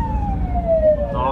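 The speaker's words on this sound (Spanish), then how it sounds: "viene una ambulancia ahí atrás" An ambulance siren wails in traffic on a city street, a steady descending tone sweeping over rumbling road noise, with a second rising wail joining near the end.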